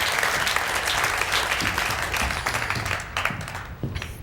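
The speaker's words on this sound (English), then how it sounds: "clap for Denise" An audience in a church gathering claps for someone, a dense burst of applause that fades slightly toward the end, with faint voices underneath.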